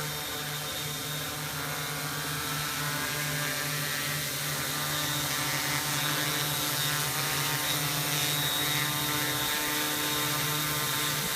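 Steady multi-rotor whine from an MP680Q drone in flight, with a buzzing harmonic hum, constant and fairly close, sustained throughout with no voices.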